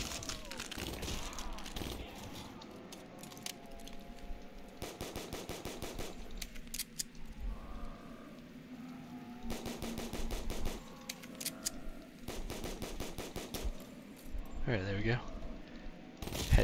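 Bursts of rapid automatic gunfire in Black Ops 3 Zombies on the custom Town Remastered map, coming in several loud rattling volleys separated by pauses with game sounds and occasional talk in between.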